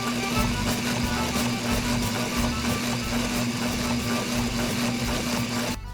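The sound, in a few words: sewing machine sewing vinyl with plastic cord piping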